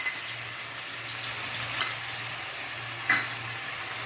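Turmeric and ginger-garlic paste fry in a pan with a steady, close sizzle and low hiss, plus a couple of brief clinks or stirs partway through.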